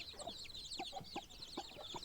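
Hen clucking to newly incubator-hatched chicks as she tries to gather them beneath her, a series of soft, close clucks in a steady rhythm over a busy backdrop of high chick peeping.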